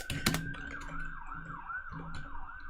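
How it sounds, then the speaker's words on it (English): Wailing ambulance sirens pass outside a home near a hospital, a repeating rising-and-falling tone that holds steady across the clip, with a brief burst of keyboard clatter near the start. "I hope you can't hear the sirens going by. And lots of ambulances."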